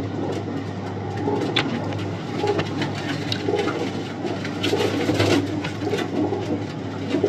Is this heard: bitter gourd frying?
no